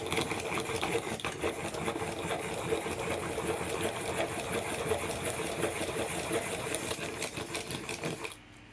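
A Caran d'Ache long point desktop sharpener grinds a pencil with a steady, close mechanical whirring and rasping that runs unbroken for several seconds before stopping abruptly, no voices.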